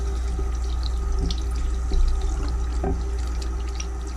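Tap water runs steadily into a sink while a fresh tattoo is washed, a continuous close splash with a few small drips and knocks over a low hum, no voices.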